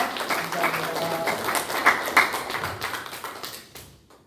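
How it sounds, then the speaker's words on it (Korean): A church congregation claps together in a burst of applause, scattered hand claps blending into a dense patter that tapers off toward the end, with a voice speaking over the start. "모든 분들에게 격려의 응원의 박수를 하겠습니다"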